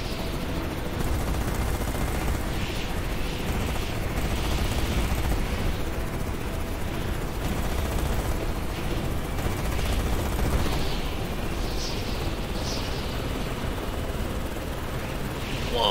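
Video game gunfire during a naval combat operation, steady rattling fusillades and distant bursts under a constant engine-like drone, with one round striking close by amid the continuous noise.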